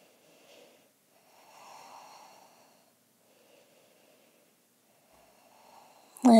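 Slow, soft breathing through the nose during a yoga forward fold, several quiet breaths rising and fading with pauses between, close and faint, ending in a sudden louder burst.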